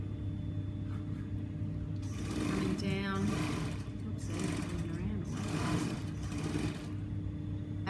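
A sewing machine runs in several bursts, stitching the seam of a skirt lining with right sides together, its rapid mechanical whir close and fairly loud against a steady background hum.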